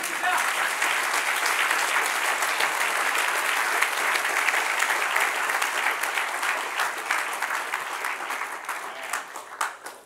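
A church congregation claps steadily for several seconds, a dense, even wash of many hands that fills the room and tapers slightly toward the end.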